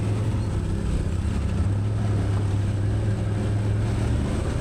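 An ATV grinds up a hill in low gear on the Brock Creek Waterfall Trail in Arkansas, riding on new skid plates. Its engine holds a steady, loud, close droning hum with no voices.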